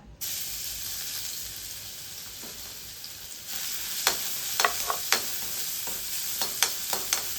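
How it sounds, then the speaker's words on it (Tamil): Crushed garlic fries in a spoonful of ghee with a steady close sizzle, broken by several sharp pops and spatters of stirring toward the end. "ஒரு ஸ்பூன் நெய் விட்டுக்கிறேங்க பூண்டு வறுக்கிறதுக்காக பூண்டை நல்லா தட்டி வச்சுக்கிறேங்க அதை அப்படியே வறுத்துக்கலாங்க"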